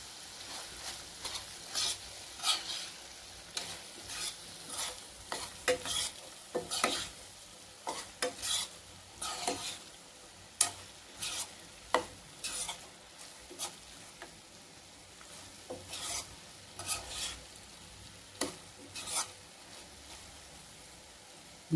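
Squid pieces sizzle with curry leaves in a pan while a spoon stirs them, each scrape landing as a distinct rasping burst over a quiet, continuous fry, repeating irregularly throughout.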